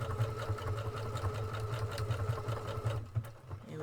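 A computerized Creative 1.5 sewing machine stitches steadily through a pattern repeat with its thread-cut function engaged, making a fast, even mechanical hum and rapid needle clatter that thins out near the end.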